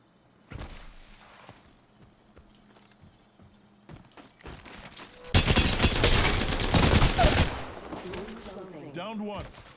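Gunfire in the video game Apex Legends: scattered shots and thuds at first, then a loud sustained burst of rapid fire, followed by ringing effects with voices talking over it.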